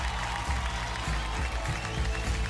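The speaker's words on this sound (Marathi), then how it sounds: "जोरदार टाळ्या." Loud applause from a crowd at a Marathi award ceremony, a dense continuous wash of clapping filling the short stretch, close and steady.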